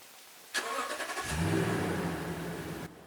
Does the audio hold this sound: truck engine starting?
yes